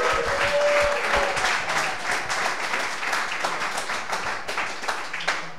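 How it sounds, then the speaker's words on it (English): A live show crowd claps and cheers in sustained, dense applause close up, with a few sharp individual claps standing out as it gradually tapers. "Give yourselves a clap, ladies and gentlemen."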